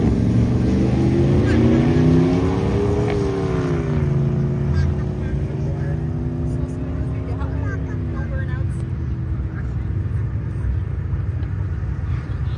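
A street-legal 1994 Ford drag car with a nitrous kit roars down an airport drag strip, a loud steady engine drone whose pitch climbs and shifts as it accelerates away, continuous throughout.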